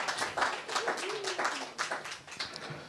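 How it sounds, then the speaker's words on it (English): Clapping from a small group, a few hands tapping unevenly and close by for about three seconds, with voices mixed in over the claps. "big round of applause"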